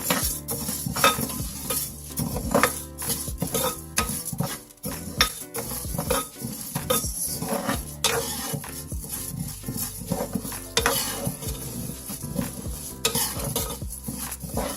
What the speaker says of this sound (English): about a teaspoon of oil and just keep frying it until it is